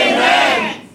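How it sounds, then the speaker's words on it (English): A church congregation shouts amen together in one loud, brief, unified crowd yell that fades quickly. "Lift your voices and shout amen."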